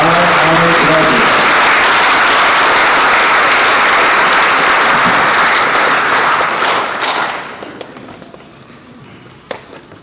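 Loud, dense audience applause fills a school awards assembly, sustained for about seven seconds before fading out to near quiet with a few stray claps.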